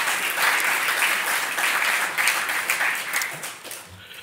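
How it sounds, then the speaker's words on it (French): Sustained applause fills a provincial council assembly hall in Liège, a dense wash of many hands clapping that fades slightly at the end. "je vous propose donc à désigner par acclamation Mme Anne Tanzebruch"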